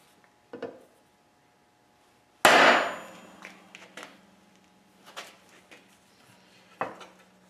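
A transfer punch gets struck while building a 2x72 belt sander: one sharp, loud tap rings out, with a few softer taps and clicks before and after in an otherwise quiet shop.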